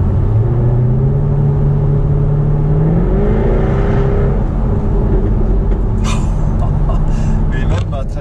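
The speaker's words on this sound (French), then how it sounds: "Tu peux mettre un petit peu le pied sur l'accélérateur." A V8 sports car engine revs up loud and close, its pitch sweeping upward and then settling, before sharp crackling exhaust pops burst out near the end.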